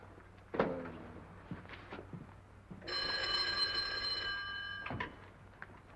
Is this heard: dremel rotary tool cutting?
no